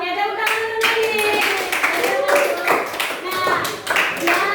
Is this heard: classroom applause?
yes